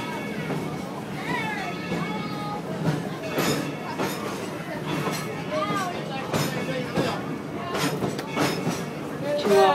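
Dollywood Express steam train rolling along its track: steady clickety-clack of wheels on rails with rumbling carriages and squealing metallic tones, while passengers chatter in the background.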